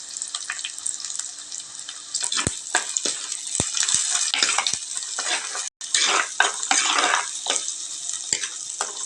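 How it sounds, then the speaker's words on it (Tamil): Onions with added garlic hiss and crackle as they are sautéed in a hot pan, a dense, close, continuous sizzle with occasional clicks from stirring and a brief break partway through. "வெங்காயம் நல்லா வதங்கிட்டு இருக்கு அது கூடவே நம்ம பூண்டு சேர்த்து வதக்கிக்கலாம்"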